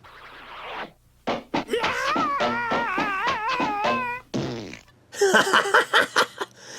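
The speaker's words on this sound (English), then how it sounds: "Even if it sounds like he's farting when he lands." Cartoon sound effects from a superhero character's fall and landing: a string of rubbery, wobbling pitched blurts that sound like a fart, framed by short thuds and rattling hits, loud and close.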